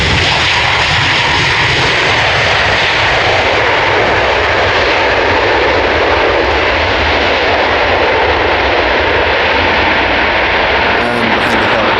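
A passenger jet lands at Edinburgh airport, its engines roaring loud and broadband from nearby, holding a sustained, unbroken rumble and whine for the whole stretch with no talk over it.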